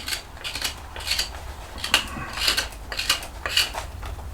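Steel knife shaving a cherry wood spoon, a steady run of short, crisp scraping strokes close up, repeating about every half second with no voices.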